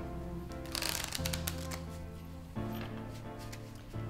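A riffle shuffle of a deck of playing cards during a card magic trick: dense fluttering bursts of cards snapping together, close and fairly loud, repeated in several quick runs over steady background music.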